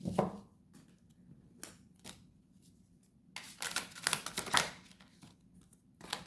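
Tarot cards are shuffled by hand in quiet bursts of riffling and tapping, with pauses between and a louder, busier stretch of shuffling toward the end.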